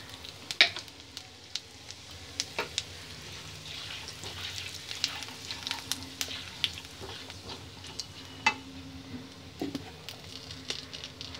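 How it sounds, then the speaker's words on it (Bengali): Cumin seeds frying in hot oil for an egg curry, a soft continuous sizzle dotted with small crackles and pops at an uneven pace, with occasional louder spits. "তেলটা গরম হয়েছে, এর মধ্যে দিয়ে দেবো জিরেটা"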